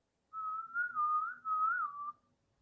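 A person whistles a short, wavering tune alone, several sustained sliding notes in a few connected phrases, clear and close against silence.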